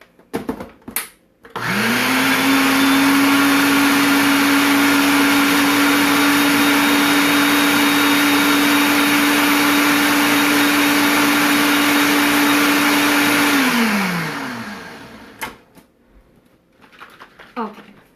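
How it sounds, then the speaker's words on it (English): A Ninja blender whirs at full power blending cream cheese pancake batter, a loud, steady motor roar held for about twelve seconds before spinning down, with a few clicks and handling sounds around it. "I'm going to go ahead and blend this in my Ninja"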